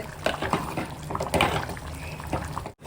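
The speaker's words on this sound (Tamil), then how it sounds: "இது ரொம்ப நேரம் கொதிக்கணும்னு இல்லை இந்த அளவுக்கு கொதிச்சது போதும்" A pot of curry bubbles and gurgles close by, with thick liquid plopping and burbling irregularly for a few seconds.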